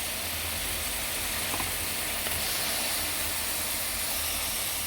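Chopped tomatoes hitting a hot pan for a sauce, a dense, even sizzling hiss held close and steady throughout, with no talk over it.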